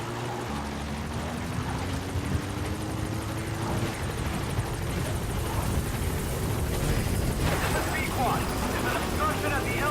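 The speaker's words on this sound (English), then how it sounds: "Support helicopter has arrived." The support helicopter in Metal Gear Solid V arrives with a continuous loud rotor and engine drone, swelling slightly toward the end as it comes in, while speech carries on over it.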